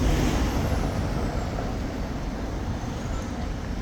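Steady road traffic with trucks and cars streams past close by in a continuous loud roar, with a faint rising whine from a passing vehicle and no talking.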